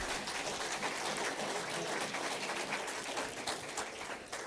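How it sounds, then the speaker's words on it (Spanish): Audience at a Father's Day event show applauds in a continuous, dense wash of clapping that holds steady for several seconds at moderate level. "Aplauso para Chachín, por favor."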